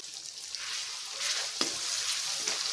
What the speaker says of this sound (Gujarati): હવે આપણે અહીંયા ટામેટાને ચડવા દઈશું